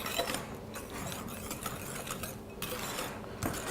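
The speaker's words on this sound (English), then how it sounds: "So we're going to whisk in the butter." Melted butter is whisked into cupcake batter in a bowl, a quiet rapid scraping and clicking that runs continuously with brief pauses.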